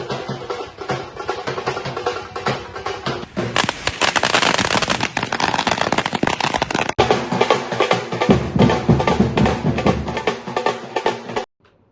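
Firecrackers burst at a celebration of the UDF government's swearing-in, starting with scattered pops before a dense, loud, rapid crackling barrage that runs on for several seconds and then stops abruptly.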